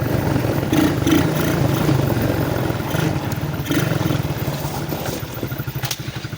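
A Forte 125cc quad bike engine runs steadily while being ridden, a close, constant mid-pitched drone with wind buffeting and no voices.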